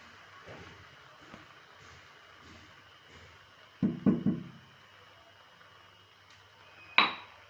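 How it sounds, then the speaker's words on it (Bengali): Spoon clinks and knocks against a pan as fried spices are stirred into cabbage cooked with fish head and fish oil, with the gas off: a quick cluster of three taps, then one sharper knock, over a quiet background. "দিয়ে ভালো করে আমি মশলাটা চারদিকে মিশিয়ে নেব"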